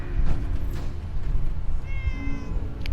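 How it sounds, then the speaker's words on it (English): A cat meows in the Fallout 4 video game, a couple of clear, close mews over a low ambient game background hum. "Oh, where's the pushy cat? Oh, the pushy cat is here."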